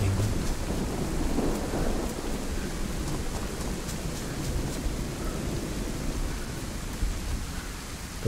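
Thunderstorm in the survival video game DayZ, with heavy steady rain and rolling thunder rumbling low and loud throughout, no speech.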